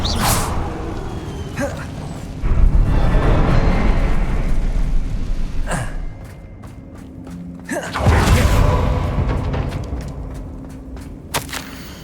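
Bombarda and Confringo spells in Hogwarts Legacy, two heavy whooshing blasts a few seconds apart, each a loud booming burst that rumbles and fades, with light clicks and ambience between them.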